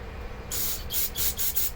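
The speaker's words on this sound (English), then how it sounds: "We're going to spray a lot of carb cleaner through it." Carb cleaner is sprayed through a Troy-Bilt lawn mower carburetor in a few short, close hissing bursts, with brief pauses between them.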